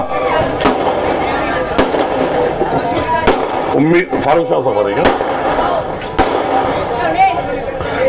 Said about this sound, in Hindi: पटाखेबाजी हो जाने दीजिए, उसके बाद चालू करें।